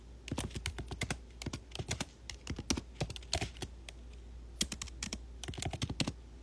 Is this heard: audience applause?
no